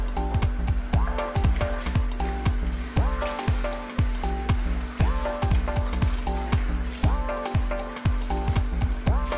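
Beef and kidney pieces for a steak and kidney pie fry loudly in a hot pan, a constant crackling sizzle with rhythmic stirring scrapes running through it, close up and without speech.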